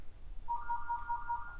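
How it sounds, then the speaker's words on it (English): An electronic phone ringtone chirps in a quick run of short, evenly spaced beeps, fairly clear over a low background hum. "There's the phone."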